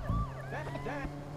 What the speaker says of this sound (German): Wie cool, dass hier auch Krankenwagen langfahren.